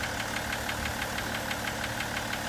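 A BMW 535d's M57 diesel engine knocks at idle with a steady, rapid metallic tapping over a constant engine drone, recorded close to the engine with no talking.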